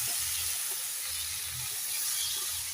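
Small fish cooking with salt, turmeric and a splash of water hiss and sizzle steadily in a pan, a continuous soft sizzle with faint low bubbling underneath.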